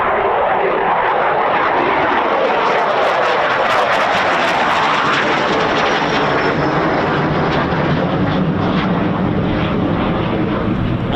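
A Eurofighter Typhoon FGR4 jet at RAF Coningsby roars loudly and steadily overhead, a broad sustained engine rumble with a sweeping tone that shifts midway as the aircraft passes, with no talking.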